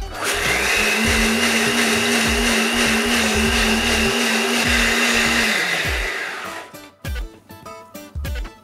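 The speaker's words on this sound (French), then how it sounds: "Et c'est parti, on mixe." A blender purees butter chicken sauce in a loud, steady whir for about six seconds, then cuts off, leaving a few scattered knocks and clatters.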